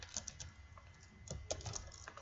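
Keys clatter on a computer keyboard in short irregular bursts of typing, close and moderately quiet, with no talking.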